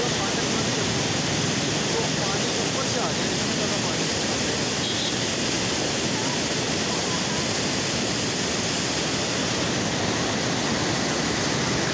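Water at a high level pours over the top of a fully closed dam gate near Sirsa, a loud, steady, broadband roar that holds unbroken from start to finish.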